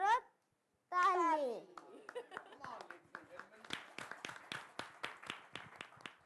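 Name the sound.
children clapping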